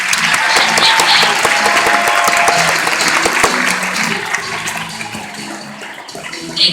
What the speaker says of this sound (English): Please join me in giving a big round of applause to the winners of our Operation October membership campaign.